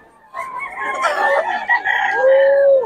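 Chickens at a rooster market in Bocaue cluck loudly and close, with a rooster's crow rising through the middle and a long drawn-out call at the end.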